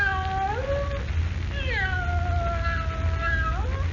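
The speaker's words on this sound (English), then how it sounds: "With the cat meowing plaintively somewhere in the musty darkness of the room, Jimmy begs Perry White not to call Lois." Cat meowing plaintively in a 1946 radio drama set in a musty dark room, several long drawn-out meows that rise and fall in pitch, fairly close and clear over a low background hum.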